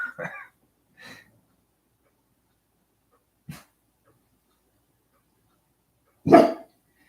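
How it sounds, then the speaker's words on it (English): A dog gives a few sparse, isolated barks spread across otherwise quiet stretches, the last one the loudest and closest. "My dog's about to start barking"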